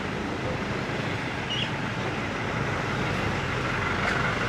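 Street traffic on a road in Sanur, Bali: a constant broad roar of passing vehicles, a truck among them, fairly loud and close, with no voices.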